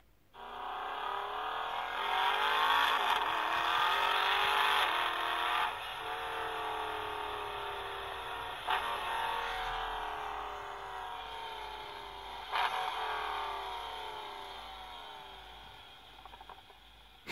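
Engine of a 2017 Mercedes-Benz X-Class pickup, a deep V8-like drone heard from inside while driving, holding steady with several rises and falls in revs over a constant road rumble.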